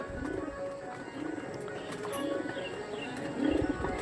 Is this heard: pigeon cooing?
yes